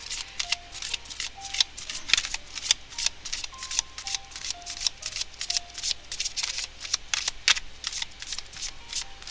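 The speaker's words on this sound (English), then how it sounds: "I'll shuffle for 5 minutes." Tarot cards are shuffled by hand in quick repeated riffles, crisp rapid flutters and snaps in a steady rhythm, close and fairly quiet, with occasional faint bell-like tones in the background.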